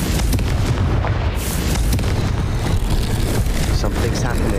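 A Confringo blasting spell explodes in the Hogwarts Legacy video game, played on Nintendo Switch: a dense, loud, continuous rumbling roar of booms and bursts filling the whole stretch, with game sounds layered throughout.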